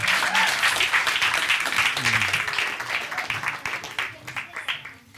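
An audience applauds Shaola at a live science storytelling show, a dense burst of clapping that thins and fades toward the end, with faint voices underneath.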